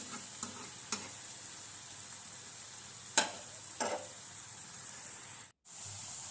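An onion mixture sautés in a pan with a soft, continuous low sizzle, broken by a few sharp scraping clicks of stirring, one louder than the rest, before a brief dropout.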